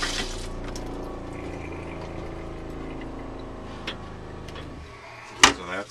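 Water pump in a Forest River R-Pod RP182G travel trailer running with a steady hum and rapid ticking as water flows from the tap, ending with a sharp clunk.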